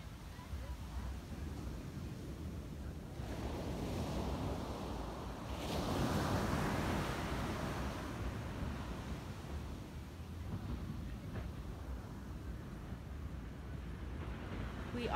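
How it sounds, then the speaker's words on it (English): Surf rolling onto a Hawaii beach with steady wind buffeting the microphone, a continuous broad wash that swells around the middle as a larger wave breaks, no voices present. "Out here on the beach at Yoke Beach."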